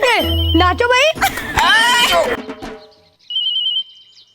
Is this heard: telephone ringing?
yes